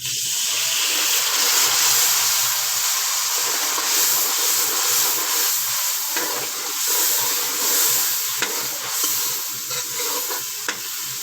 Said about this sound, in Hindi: अब मैं इसमें थोड़ा सा पानी डालूंगी।